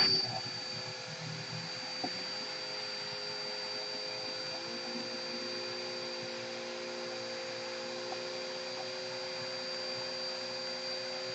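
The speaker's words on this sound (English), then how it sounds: "Run the vacuum for a second." A vacuum cleaner runs in a workshop, a steady whining drone that starts abruptly and holds at an even level, moderately near, with a faint click partway through.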